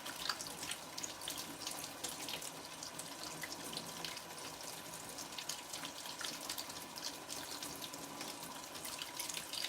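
Steady tap water running into a sink while moss is rinsed by hand, a continuous close hiss and splash with faint dripping, alone without talk.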